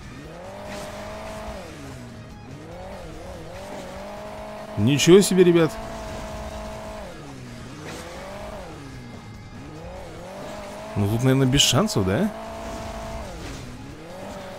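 Vehicle engines in Hill Climb Racing 2, a bike racing close behind, drone steadily with rising and falling pitch, with two louder bursts of revving and squealing around mid-clip and near the end while someone talks over it.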